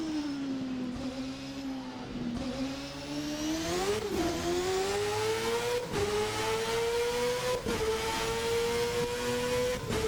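A Formula car engine in the VRC Formula NA 1999 racing simulator revs hard and continuously, its pitch climbing through gears with brief dips at each shift, loud and alone without talk.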